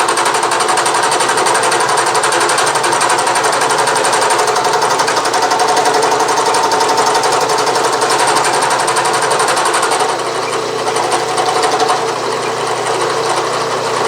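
Bridgeport milling machine cutting the last of thirty gear teeth using direct indexing, a loud continuous grinding whir with a steady high-pitched cutting whine, close and unbroken throughout, no talk.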